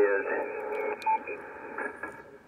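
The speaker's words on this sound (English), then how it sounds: "And I guess you can hear that squawk." Amateur radio receiver audio carrying QRM interference from a signal about 2 kHz away: a harsh, fluttering squawk with broadband hash, steady and fairly faint, with no voice over it.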